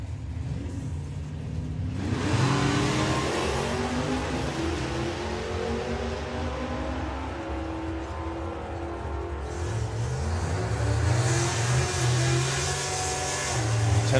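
Drag racing cars, including a Chevy, roar at the Sportsman Nationals, a loud continuous engine rumble with revving bursts rising and falling, and an announcer talking over the noise.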